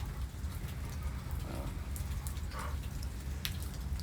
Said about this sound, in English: so yes, it is raining a little bit today